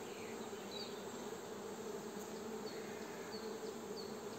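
Honey bees, Buckfast, buzzing steadily around a hive frame during an inspection, a dense continuous hum with faint individual bees passing close.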